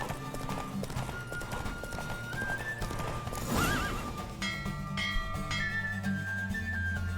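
A horse gallops with quick clip-clop hoofbeats during a horse race in The Witcher 3: Wild Hunt, with a loud neigh in the middle and game music and ambience underneath.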